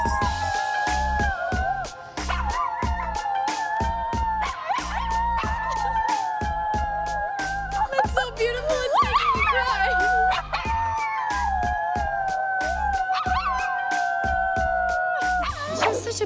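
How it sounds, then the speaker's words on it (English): A dog howls in long, wavering, song-like tones that rise and fall over a rhythmic musical backing, continuing for the whole stretch. "She's like a dog version of Mozart"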